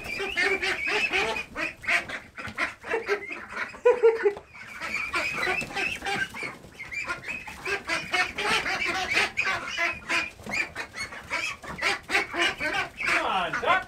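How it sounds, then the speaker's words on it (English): Ducks in a duck hut quacking noisily and continuously, a crowded flock calling over one another close by, with a loud burst of honking near the end. "It's not quiet in the duck hut here though, because these ducks are nuts."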